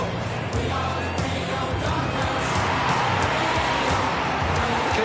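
A stadium crowd at an AFL match between the Dockers and the Eagles roars steadily as players run through the banners onto the field, a dense continuous wash of cheering with no break.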